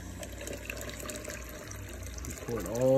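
Hot resin regeneration solution for aquarium deionization resin is poured into a jar, a continuous liquid splash and trickle that rises in pitch near the end as the jar fills, fairly faint and close.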